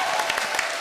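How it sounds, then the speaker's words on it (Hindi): An audience applauding a stage act after a standing ovation, brief steady clapping with scattered sharper claps and no talk. "जोरदार तालियां"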